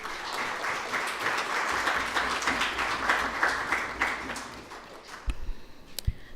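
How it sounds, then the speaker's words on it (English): An audience at a youth event gives a sustained round of applause for student performers, a dense, even clapping crowd that tapers off toward the end with a few louder knocks. "Join me in giving them another round of applause"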